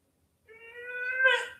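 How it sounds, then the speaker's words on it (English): A single cat meows in one drawn-out, rising cry that swells and ends with a slightly harsher strained edge, close and clear in otherwise near silence. "Are you trying to meow?"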